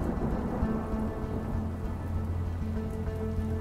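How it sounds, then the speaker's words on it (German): Heavy storm rain pattering steadily on surfaces, a dense continuous hiss with a low rumble beneath that may be distant thunder, no voices. "Doch eines Tages kommt ein starkes Unwetter auf."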